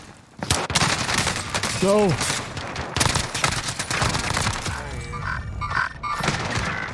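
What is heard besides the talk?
gunfire in video game Call of Duty Rebirth Island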